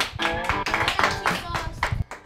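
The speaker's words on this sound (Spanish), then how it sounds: "Un aplauso para Laura." Clapping for Laura on a Spanish TV magazine show, a short burst of hand claps with voices and music mixed in, loud and close throughout.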